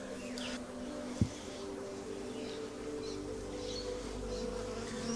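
A steady, low hum of honey bees buzzing fills the space up close during a beehive removal, with a single sharp knock early on and faint chirps in the background.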